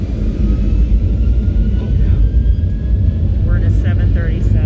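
Boeing 737 airliner engines drone as a loud, steady low rumble inside the cabin, continuous throughout with a faint high whine, while voices talk briefly over the roar.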